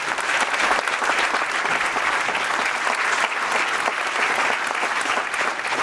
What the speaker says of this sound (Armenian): ծափերը